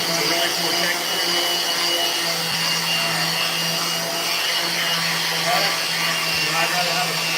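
A power sander grinds steadily across a wooden skateboard deck, a continuous loud whir with no pauses.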